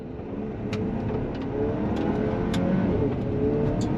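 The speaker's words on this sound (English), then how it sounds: "we're gonna go on throttle on the gravel" A 2024 GMC Acadia AT4 SUV accelerates on gravel, its mid-pitched engine rising steadily under a continuous tyre rumble, with occasional sharp ticks of stones, heard from inside the cabin.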